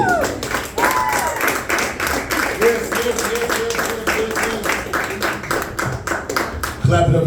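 A comedy club audience applauds a stand-up comedian with steady, dense clapping that carries on throughout, loud and close, with brief cheers mixed in.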